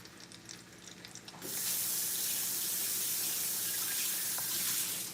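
Tap water gushing steadily into a pot of rice, close and loud, starting abruptly after a quieter moment of faint kitchen clatter and continuing as an even rushing hiss.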